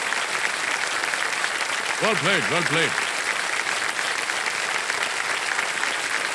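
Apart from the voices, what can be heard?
audience applause on a TV quiz show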